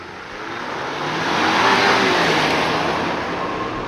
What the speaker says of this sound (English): Let's see if we can get this thing to do a burnout in the wet.